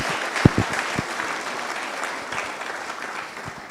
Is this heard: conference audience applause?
yes